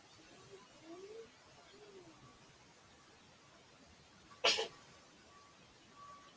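A single sharp sneeze bursts out in an otherwise quiet room, with faint soft cooing in the background.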